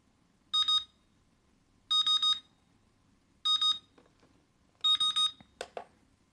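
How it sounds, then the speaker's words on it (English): A cheap digital clock's timer alarm goes off in repeated bursts of rapid high-pitched beeps, four clusters roughly a second and a half apart, close and sharp against a quiet room, with a few small clicks after the last burst. "So that's your timer."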